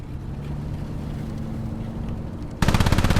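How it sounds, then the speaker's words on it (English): Rapid, loud, evenly pulsing bursts from an anti-aircraft gun firing close by in the video game Squad break in suddenly near the end, after a low vehicle engine drone. "there's an AA gun close to squad 2"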